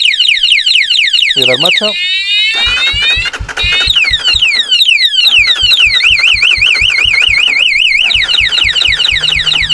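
A motorcycle alarm fitted with a remote starter blares loudly and close, cycling through warbling sweeps, rapid chirping tones and steady pulsing siren patterns, while someone speaks briefly over it.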